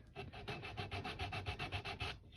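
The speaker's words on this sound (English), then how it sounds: "What we're going to do now is just tidy them up, a bit of sanding." Quiet, rhythmic rasping of old sandpaper rubbed back and forth over a wooden axe handle, about fifteen quick even strokes in a row.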